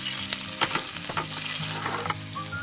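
Fish (flounder or cod) frying in a hot pan, a dense, steady sizzle with crackling spatter and occasional stirring scrapes, close and loud with no talking.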